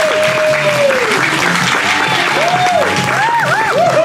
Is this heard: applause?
yes